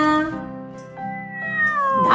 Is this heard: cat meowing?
yes